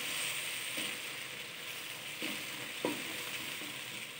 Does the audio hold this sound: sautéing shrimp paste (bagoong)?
yes